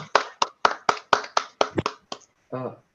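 A quick run of about nine sharp hand claps in an uneven rhythm at a college coding competition finale, close by, ending with a short voiced sound.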